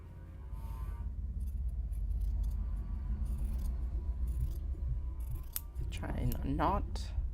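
Scissors snipping fabric to trim the seam of a sewn knot bag, several close crisp cuts over a low steady rumble, with a person speaking near the end.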